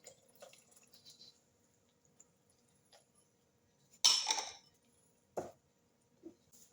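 Water is poured from a bowl into a dough mixture for Moroccan fakkas biscuits, one short splashing gush midway. Faint clinks and drips come before it, and a quieter slosh follows in an otherwise quiet kitchen.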